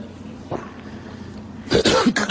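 A man coughs, one short cough followed by a louder, rougher burst of several coughs close to the microphone.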